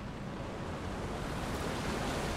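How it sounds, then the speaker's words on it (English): Waterfalls in the video game Anthem, heard as a continuous broadband rush of falling water, loud and steady like surf, with no voices over it. "Look at the waterfalls. They're going backwards."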